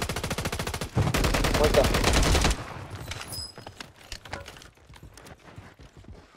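Rapid automatic gunfire in Call of Duty Warzone, a loud sustained burst of fast shots followed by scattered single shots and game effects, with players talking over it.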